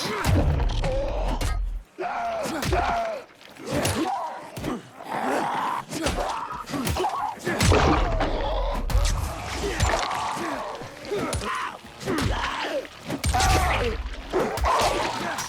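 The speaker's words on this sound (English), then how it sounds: "I am using a blunt weapon right now" Blunt weapon strikes land over and over in the Dying Light 2 video game, dull thuds and whacks mixed with groans and gasps from infected enemies in a busy, loud fight.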